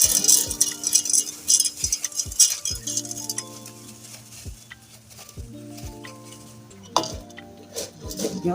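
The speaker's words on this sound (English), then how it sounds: "You also stir." A homemade hair conditioner mixture with cetyl alcohol is stirred in a pot over a low flame. A utensil scrapes and clinks against the metal in a regular rhythm, and some strokes leave a faint ringing tone.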